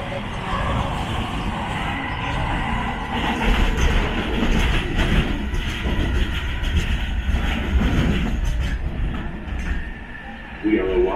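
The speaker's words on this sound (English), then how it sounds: "Thank you for riding Air Train. Our next stop will be Terminal 8." JFK AirTrain rolling between terminals, a steady loud rumble of rail cars with faint clickety-clack, under a recorded announcement voice.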